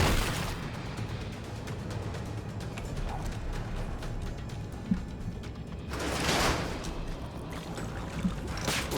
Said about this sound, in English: he's just blown himself up